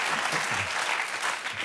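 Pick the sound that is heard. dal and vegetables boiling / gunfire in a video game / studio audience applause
studio audience applause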